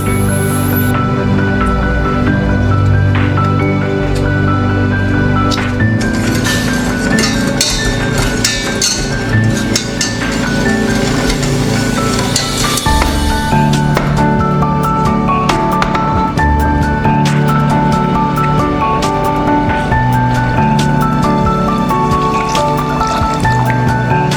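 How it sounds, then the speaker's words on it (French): Hot chocolate made with cocoa, sugar, milk, cinnamon and nutmeg simmers in a pot on the stove, giving a steady close bubbling with soft liquid drips and gurgles throughout. "Je vais laisser bouillir pendant quelques minutes sur le feu"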